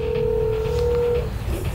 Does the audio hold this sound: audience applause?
no